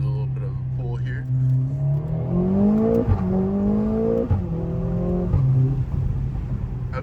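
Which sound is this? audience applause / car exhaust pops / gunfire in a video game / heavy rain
car exhaust pops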